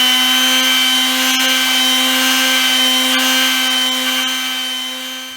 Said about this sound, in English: he's just going to keep sanding it until that disappears.